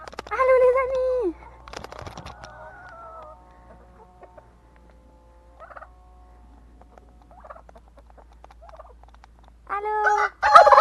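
Backyard hens cluck and squawk close by in short bursts separated by quiet gaps, ending in a louder flurry of calls; a voice speaks faintly at times.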